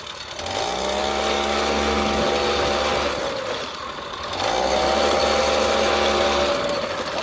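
Komar 2328 moped engine, warmed up, revving high in two long sustained pulls with a buzzing two-stroke drone, close and loud, dipping briefly between the runs.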